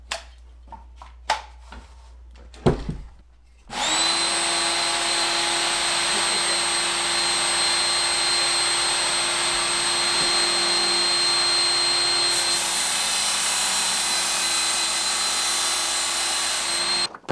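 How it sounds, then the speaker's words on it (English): A bench tool grinder attachment sharpening the edge of a shovel: a loud, steady high-pitched grinding whine starts after a few brief knocks and runs continuously, with no talk. "I'm gonna switch back to our tool grinder attachment just so I can get a good angle on the finish of the edge here."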